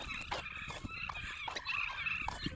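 A flock of about thirty turkeys on a farm gives off a busy mix of high, wavering gobbles and calls, several birds overlapping at moderate distance with steady background noise.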